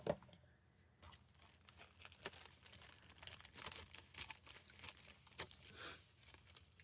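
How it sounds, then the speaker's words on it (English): Scissors cut through paper for a junk journal close by, quiet snipping and crinkling in irregular bursts with soft rustles between cuts. "I'm just going to cut this off right here."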